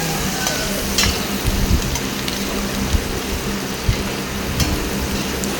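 Onions frying in a hot pan for chicken adobo, a loud continuous sizzle with occasional stirring knocks and scrapes against the pan.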